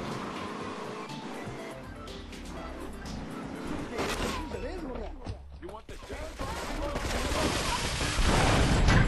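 Gunfire crackles through a Grand Theft Auto 3 street scene, mixed with traffic and engine noise, the shooting growing denser and louder toward the end while a voice talks over it.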